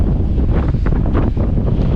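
Strong wind in the Texas Panhandle roars and buffets the microphone in a constant loud rumble, with gusty swells and no voices.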